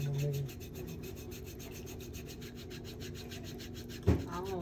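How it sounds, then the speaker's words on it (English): A foot file rubs over the skin of a foot during a pedicure on a diabetic client, a steady close rasping scrape with one sharper knock near the end. "Like a toenail file. And that's the other side of the file."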